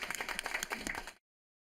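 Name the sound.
audience applause for panelists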